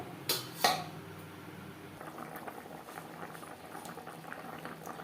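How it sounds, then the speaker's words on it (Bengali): Fish curry gravy with drumsticks and potato simmers in a pot, a soft, steady bubbling up close, opened by two sharp clinks of a utensil against the pot. "গ্রেভি ফুটে ওঠা পর্যন্ত অপেক্ষা করব"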